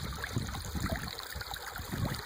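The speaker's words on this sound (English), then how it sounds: "here's another spot where the Chattahoochee Creek is coming out of the ground right there" Water from the Chattahoochee Creek, where it emerges from the ground along a mountain trail, gurgles and splashes steadily nearby, a soft continuous trickling with faint broadband hiss.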